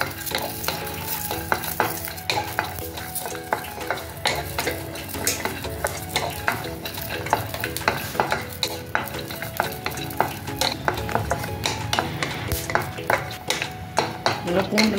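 Garlic dry roasting in a pan without oil, stirred briskly so a spoon scrapes and clinks repeatedly against the metal in a quick, busy rhythm over a constant close crackle.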